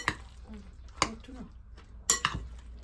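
Fijian-style food ingredients being mixed together in a bowl, with a few sharp clinks and scrapes of a utensil against the dish spaced out among quieter stirring, recorded close up.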